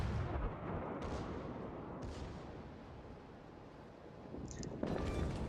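Heavy naval gunfire from the battleship Großer Kurfürst in a warship video game: a deep, rumbling salvo roar with several booming pulses across the span, loud and sustained, ending in a sharper burst.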